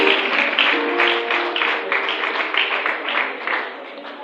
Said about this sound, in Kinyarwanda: ariko abana tubakomera amashyi